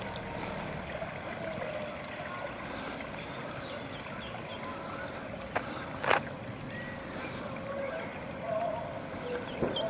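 A canal boat on the Leeds and Liverpool Canal passes quietly at a distance, a soft low engine rumble under light wind, with a couple of brief knocks and faint music drifting by.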